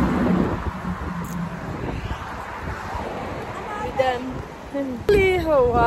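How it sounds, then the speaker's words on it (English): Strong wind buffets the microphone outdoors in Honolulu, Hawaii, a steady rumbling roar throughout with gusts, while a person talks over it. "Hawaii is very windy."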